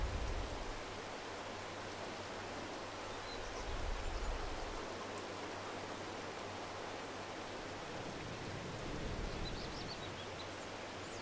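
Steady, dense video game rain from Farming Simulator 22 hisses continuously for the whole stretch, even and broadband, with no voices.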